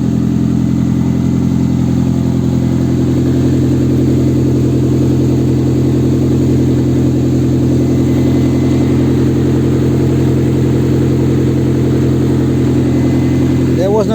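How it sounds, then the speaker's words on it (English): Engine of a 1997 Toyota RAV4 running with its muffler cut off, a loud, continuous rumbling idle heard close by that stays steady throughout. "And the muffler is cut off. So that's the noise you're hearing."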